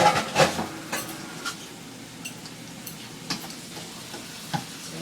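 Onions frying in a hot pan over a high flame, a soft steady sizzle with a few brief clicks and stirring knocks, mid-distance and fairly quiet, with no one talking.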